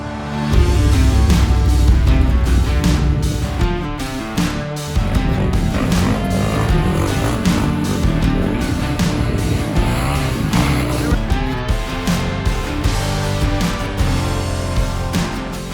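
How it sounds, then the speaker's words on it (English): Off-road race buggies, trucks and motorbikes run along the Baja 400 desert track in Mexico, producing a loud, continuous roar of engines that swells and fades as vehicles pass close by. "I'm just out here kind of watching as the buggies and the trucks and the bikes go past"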